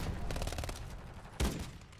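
Burst of gunfire in Call of Duty: Modern Warfare 3 multiplayer, with a sniper firing at a player near spawn: a rapid volley of shots, then one loud, sharp report near the end, with no speech.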